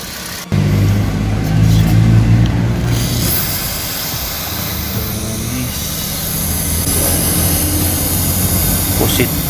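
Toyota Vios engine starting after its throttle body was cleaned, a sudden loud start followed by a steady idle with some revving. Voices speak over the engine.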